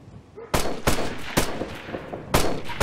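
Enemy gunfire in the video game Operation Flashpoint Red River, a series of loud, sharp shots in irregular bursts of about four cracks, each ringing out close and echoing briefly.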